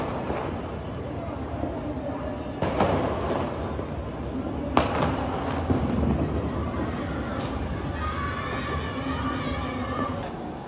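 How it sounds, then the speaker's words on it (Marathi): Firecrackers burst outside during a street celebration, a few sharp distant bangs scattered over a steady background murmur, with voices talking nearby. "बाहेर जश्न चालू झालेला आहे. फटाके फुटताना दिसत आहेत."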